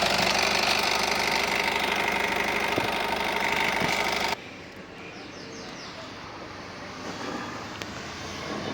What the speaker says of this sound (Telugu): Bandi accelerator ఇచ్చేస్తున్నా sir.